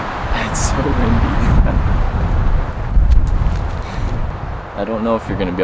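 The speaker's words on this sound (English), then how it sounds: "It's so windy." Strong wind buffets the microphone outdoors beside a truck camper with a loud, continuous low roar and gusty swells, and a voice briefly comes through near the end.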